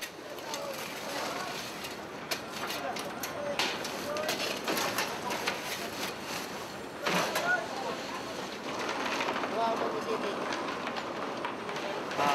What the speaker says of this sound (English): The ore mined by the abantero is passed out of the tunnels by wagons.